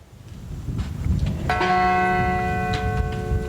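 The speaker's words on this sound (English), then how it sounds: "each followed by the toll of bells" A memorial bell tolls once at an outdoor Flight 93 anniversary ceremony in Shanksville, a loud struck ring that hangs and slowly decays over faint crowd ambience.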